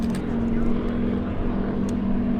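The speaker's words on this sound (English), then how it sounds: "It's powered by two Pratt & Whitney 985 supercharged Ram engines." Aerobatic airplane with two Pratt & Whitney 985 supercharged engines at an airshow: a steady, droning propeller-engine hum, moderately loud and constant, with faint talk beneath it.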